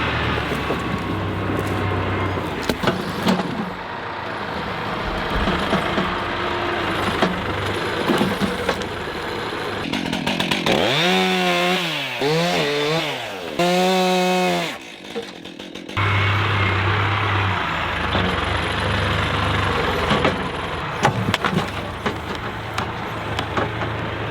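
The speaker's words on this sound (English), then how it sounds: "I can just chop that up with the chainsaw" A chainsaw cutting wood drones steadily for most of the stretch, its engine revving and rasping loudly in a single continuous run with a brief dip midway.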